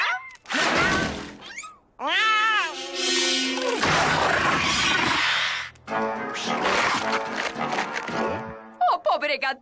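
A hungry cartoon cat meows in a cartoon scene, with repeated drawn-out, wavering cries in short bursts separated by brief pauses, loud and close, mixed with voices and other cartoon sound effects.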